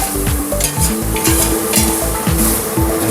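Chicken soup with sotanghon noodles being stirred in a pot, a steady rhythmic scraping and stirring with a sizzling bubbling bed beneath, close and loud, no voices.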